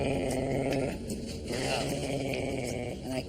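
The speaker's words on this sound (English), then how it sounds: "Put a sock in that dog." A dog growls in a low, steady rumble close by, with a brief whimpering edge near the end, heard alone without talk.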